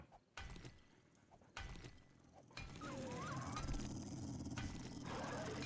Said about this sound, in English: I hear a dog up there.